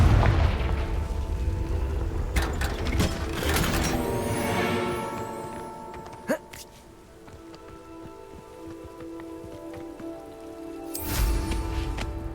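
Spell blasts from the Confringo blasting spell in Hogwarts Legacy: several sharp explosive bursts and booms spaced across the stretch, with crackling debris and rumble between them and a strong final burst near the end, no voices.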